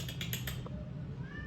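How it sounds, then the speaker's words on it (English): A cat gives a single faint meow near the end, after a few quick clicking sounds, against quiet room noise. "Don't ask me how, but I've picked up a cat."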